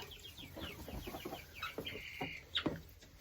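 Chickens cluck in short repeated bursts at close range, with a few higher squawks and chirps, no voices.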